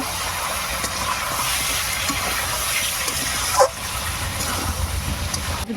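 Water poured into a pan of biryani masala with ground ginger, garlic and cumin, a steady close gushing splash that runs throughout, with a brief sizzling burst partway through.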